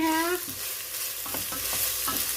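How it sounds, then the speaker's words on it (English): A pot of beef salami soup stirred over a steady sizzling simmer, a few soft scraping strokes under continuous bubbling hiss, close up. "And I'm stirring occasionally"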